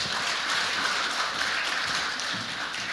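A church congregation at a Sunday service claps to welcome a missionary back from 33 years of mission work, a dense, steady applause filling the hall, even and sustained throughout.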